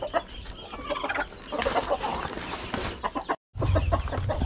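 Chickens with newly hatched chicks on a Philippine backyard farm cluck repeatedly and close by, busy overlapping calls with brief rustling and one short dropout.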